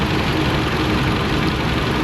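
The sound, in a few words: car engine idling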